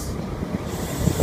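Brief steady rumble and rolling noise of a Great Western Railway train, heard from nearby with no voices.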